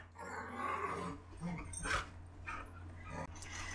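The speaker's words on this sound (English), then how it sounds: "My dogs sound like they're about to kill each other, but they're really not. They're playing." Two dogs playing rough, trading low growls, snarls and brief yips in a quiet room, fairly faint and close, with some scuffling and a bit of human voice mixed in.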